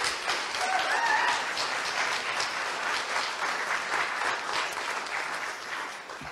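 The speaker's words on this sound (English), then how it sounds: "So a big round of applause for Tim Baker." Applause from a festival audience at a literary event; steady, full clapping from many hands at moderate distance, slowly fading toward the end, with no talk over it.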